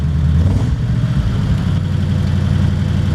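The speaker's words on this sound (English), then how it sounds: "You hit the starter button." A 1932 Ford 5-window Henry steel hot rod with a lightened flywheel idles, a steady, loud, rumbling low engine drone holding evenly throughout with no talking.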